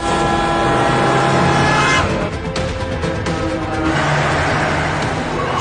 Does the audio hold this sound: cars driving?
yes